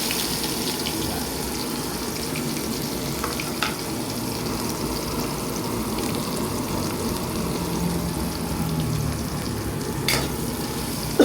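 Garlic and onion frying in cooking oil in a pan, a steady, dense sizzle that runs unbroken throughout, with a few faint clinks near the end.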